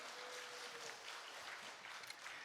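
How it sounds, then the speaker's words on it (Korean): A church congregation applauds in welcome, a faint, even patter of many hands clapping at a distance for a couple of seconds. "박수로 환영했습니다."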